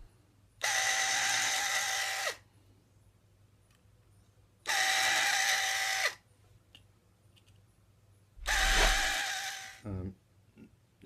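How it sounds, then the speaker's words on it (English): A small hand pin drill whirs in three separate bursts while drilling holes in a model ship, each a couple of seconds long with pauses between, close and fairly loud. "you have to revert back to a hand pin drill, and it works fine"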